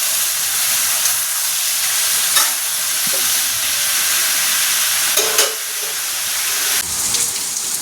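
A heavy downpour of rain falls outside a home, making a loud, continuous hiss with a few brief louder splashes and no talking.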